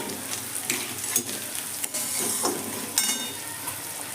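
Semolina frying in a pan with vegetables, stirred now and then: a steady soft sizzle with scraping strokes of a spoon against the pan at irregular intervals, close and moderately loud.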